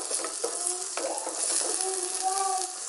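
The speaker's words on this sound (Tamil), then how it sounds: "வெங்காயமும் தக்காளியும் நன்றாக வதக்கி விட்டுக்கணும்." Onion and tomato sautéing in a pan for a yam curry, a bright continuous sizzle close by with occasional stirring scrapes and faint tonal clinks, no talking.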